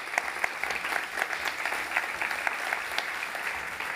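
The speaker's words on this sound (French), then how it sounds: "Je vous demande de l'applaudir très fort." A conference audience applauds steadily, a dense patter of many hands clapping at a moderate distance, holding an even level for several seconds with no voices over it.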